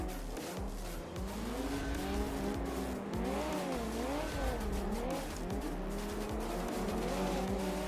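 Several race cars lapping a dusty Johnson Valley off-road course in the BeamNG driving game, engines wailing and sweeping up and down in pitch with intermittent tire squeal, continuous and fairly loud throughout.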